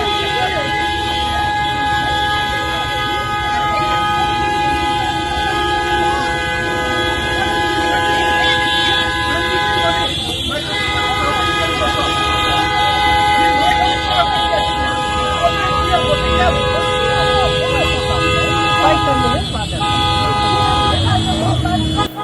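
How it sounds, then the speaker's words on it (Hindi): Car and truck horns honk repeatedly and overlap on a road blocked during a VIP visit in Meghalaya, long sustained blasts layered over a loud, continuous traffic din with crowd noise and talk beneath. "देखिए हॉर्न बजाया जा रहा है"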